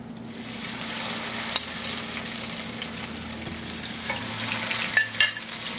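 Veal cutlets frying in olive oil in a hot pan, giving a steady, close sizzle that holds even throughout with no voices.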